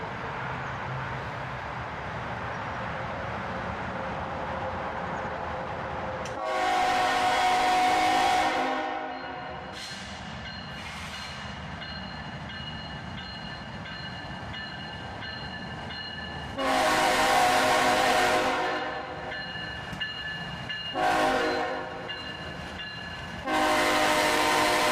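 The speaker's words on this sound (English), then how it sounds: "the first train showed up" A CSX freight train rolls past near sunrise on a green signal, a steady rumble of cars under three loud, sustained multi-tone horn blasts, the last two long and close.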